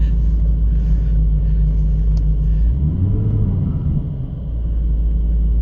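A 1996 Corvette C4 with a manual gearbox drives in first gear, its engine a loud, steady low rumble from inside the cabin that rises and dips briefly midway.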